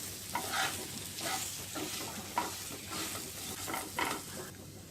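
Potato pieces with salt and cumin stirred in a hot pan for jeera aloo, a close soft sizzle with rhythmic spatula scrapes and clinks every second or so, no talk.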